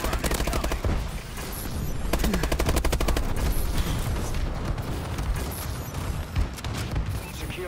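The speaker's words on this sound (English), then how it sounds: "Friendly bombing run is coming" A friendly bombing run in Call of Duty: Advanced Warfare brings rapid automatic fire and dense, loud battle noise, with a sharp stuttering volley near the middle and voices under the din.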